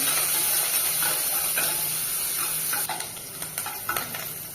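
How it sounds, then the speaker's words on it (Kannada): Onions frying in a pan with curry leaves for egg sambar, a continuous close sizzle and hiss with a few stirring scrapes and clicks near the end. "ಈರುಳ್ಳಿ ಚೆನ್ನಾಗಿ ಫ್ರೈ ಮಾಡ್ಕೊಳ್ಳೋಣ."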